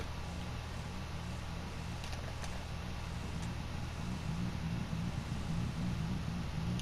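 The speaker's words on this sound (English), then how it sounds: "I'll listen to that idle real quick." A low, steady car engine idle in GTA Online, a Vapid Retinue MK2, rumbles evenly throughout, a constant hum with faint hiss above it and no voices.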